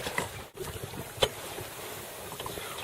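Wind rushing past a sailboat off Oahu, within sight of Diamond Head: a faint, steady breezy hiss with a couple of soft gusty thumps and no speech.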